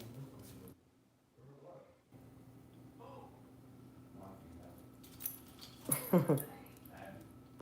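Dogs at home whimper and whine in short, faint bursts over steady indoor background noise, with a louder cluster of whines near the end and some talking in the room.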